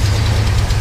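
The warmed-up engine of a 1979 International Harvester Scout II 4x4 idling with a low, steady rumble, heard close up for under a second.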